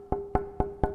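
Unworked hardwood tonewood meant for a violin, tapped four times at an even pace, each knock short and resonant with a ringing tone, close and clear with nothing else heard.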